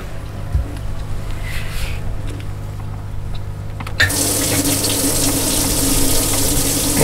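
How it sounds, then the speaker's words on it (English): Water pumps steadily into a fish box aboard a fishing boat on Lake Okeechobee, a constant running flow that grows louder and fuller partway through, with no talking. "Make sure water's going in there."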